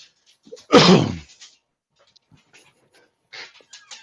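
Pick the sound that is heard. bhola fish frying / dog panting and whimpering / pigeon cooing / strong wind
dog panting and whimpering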